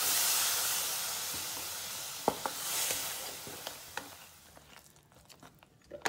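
Onion chutney with garam masala sizzling in a pan as water is poured in, giving a loud steamy hiss that fades over several seconds, with scattered clinks and stirring sounds.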